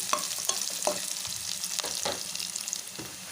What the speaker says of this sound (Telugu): ఇలా వెల్లిపాయలు ఆయిల్లో మంచిగా గోలిన తర్వాత